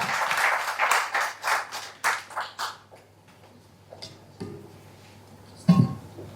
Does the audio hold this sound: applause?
yes